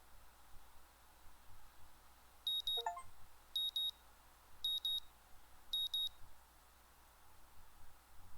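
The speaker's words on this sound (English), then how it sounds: "My alarm is beeping shatters the early morning quiet." An alarm clock in the early morning sounds four short bursts of rapid high beeps, evenly spaced about a second apart, fairly faint over a quiet room hiss.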